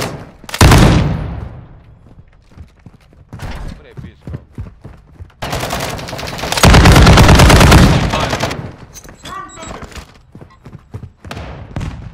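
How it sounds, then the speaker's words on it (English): Heavy gunfire in the Call of Duty DMZ video game, loud automatic bursts and sustained volleys with pauses between them, mixed with occasional talking. "You're shooting Brittany."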